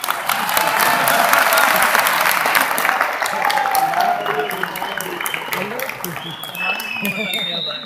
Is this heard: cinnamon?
no